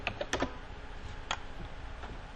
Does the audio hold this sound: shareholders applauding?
no